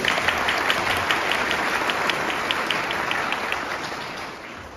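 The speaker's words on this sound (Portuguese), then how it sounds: "Uma salva de palmas aí." Applause from a parish audience at a family-week church gathering, a broad wash of clapping with some distinct sharp claps standing out, gradually fading toward the end.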